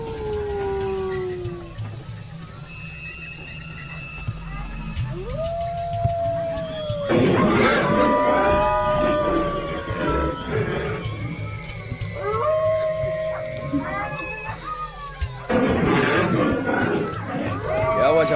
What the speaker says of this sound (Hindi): वो कुत्तों की है ना? नहीं, लोमड़ी की है।